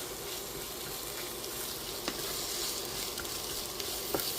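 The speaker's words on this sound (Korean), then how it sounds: "야채를 이렇게 좀 볶아주세요." Vegetables with green onion crackle and hiss in a pan as they are stir-fried for a spicy squid stir-fry, a continuous close sizzle with scattered spatula clicks and no talking.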